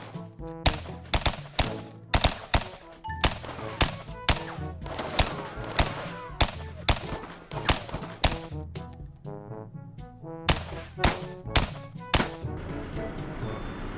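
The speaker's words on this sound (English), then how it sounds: "Firefight, guns flying everywhere, shooting." Heavy gunfire in a Sub Rosa video game firefight, rapid repeated loud shots and bursts layered over each other almost continuously, punchy and close.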